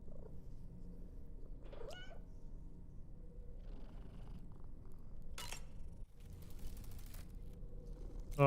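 A cat in the video game Death Stranding 2 purrs with a low, steady rumble that runs the whole time, with a couple of brief higher chirps early on and some faint game ambience.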